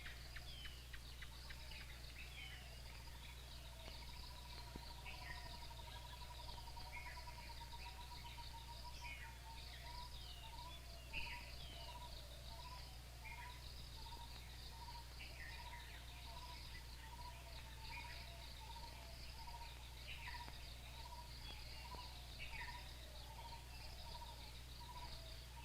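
Dense forest chorus of insects and birds around a monastery where monks live, with steady cricket-like trilling, repeated high chirps and calls near and far, over a constant low hum, no talk.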